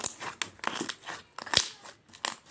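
Crunchy slime squeezed on a table, giving a run of crisp crackling and crinkling bursts in quick irregular pulses, fairly close and clear with no talking.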